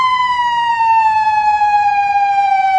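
A loud, continuous siren wails in a steady tone that slowly drifts lower, close and alone, with no talking.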